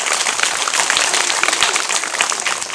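A school audience claps in loud, steady applause that runs unbroken from start to finish, with a dense crowd of hands and no voices rising above it.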